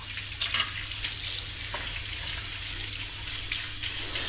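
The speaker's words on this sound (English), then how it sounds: "Let's just give it a little wash to keep tidy as we go." Tap water runs steadily into a kitchen sink while dishes are washed, a continuous close hiss of flowing water with a few faint clinks and splashes, and no talking.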